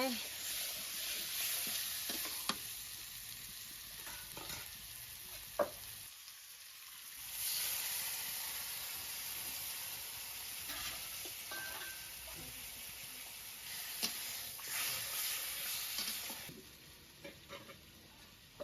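Country chicken sizzles steadily in hot oil in a village kitchen pan, with scraping stir strokes throughout and a brief lull partway before the crackle resumes.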